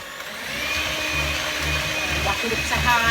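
An electric mixer runs at slow speed through caster sugar for a New York style cheesecake, giving a continuous steady motor whir with a faint rhythmic churning underneath.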